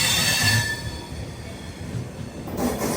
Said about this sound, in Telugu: ప్లాట్ఫామ్ నెంబర్ 9లోకి ఇప్పుడే ఒక ట్రైన్ అయితే తీసుకొస్తున్నారు.